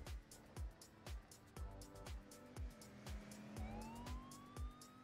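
Roblox video game police siren wailing and slowly sliding upward in pitch, laid over repeated rhythmic thuds from the game and fairly prominent throughout.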